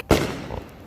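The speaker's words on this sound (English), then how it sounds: "Those are some intense firecrackers." A single sharp firecracker blast for the Fourth of July goes off close by, with a brief crackling tail after it.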